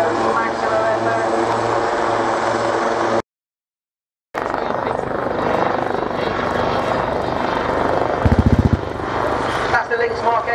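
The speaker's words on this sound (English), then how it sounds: "I'll try and go over the noise of their rotors" Lynx and Wildcat helicopters at an air display, a loud, continuous rotor and engine roar with a brief gap of silence, a rapid burst of machine-gun fire near the end, and a voice talking over it.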